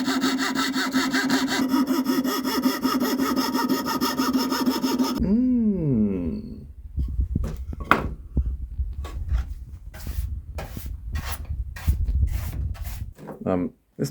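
A coarse rasp files down wood for a garlic chopping board, first a continuous scraping rasp for about five seconds, then scattered sharper strokes and knocks.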